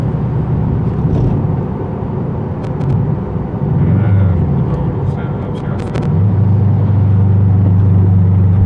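A Subaru WRX STI drives along the road with its engine droning in a low, steady rumble that swells near the end, heard from inside the car beneath ongoing talk.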